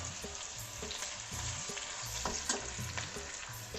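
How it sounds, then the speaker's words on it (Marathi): Mustard seeds, green chillies and garlic sizzle and crackle steadily in hot oil in a pan, with a spoon stirring and scraping now and then, continuous and close. "तेल गरम झालेलं आहे आणि आता आपण याच्यामध्ये मोहरी टाकून घेत आहे, मिरच्या टाकून घेऊया"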